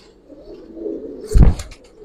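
Palla-line giribaz pigeons at a loft give a soft, low coo, followed by a sudden louder rustling burst nearby, with no talking.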